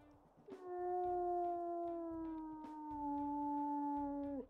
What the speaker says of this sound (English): Oh, that's a really deep howl.